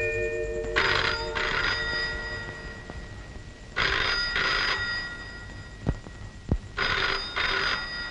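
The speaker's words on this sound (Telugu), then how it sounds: "ఫోన్ నొక్కుందిరా." An old-style telephone bell rings in three bursts of paired trills separated by pauses, fairly clear indoors, with two faint knocks in the gap between the second and third rings.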